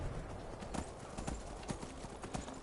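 A horse trots in the video game Skyrim, hooves clip-clopping in a steady, even rhythm, fairly quiet over a faint background wash, with no speech.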